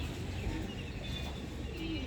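Pigeons coo softly in a morning coop setting, low murmuring calls repeating steadily through the short stretch without any talk.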